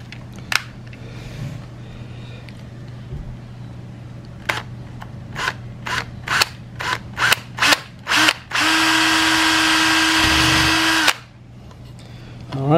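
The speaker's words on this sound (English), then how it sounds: "I'm going to try to start a hole with a small bit." Without a drill press, a small bit starts a hole. Scattered sharp clicks and taps come first. Then a short burst of close, steady drill whine runs for about three seconds, and a few more clicks follow.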